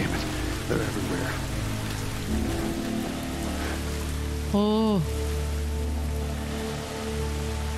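Steady, even rainfall pours throughout in The Last of Us video game, with a short exclamation and a brief rising electronic tone partway through.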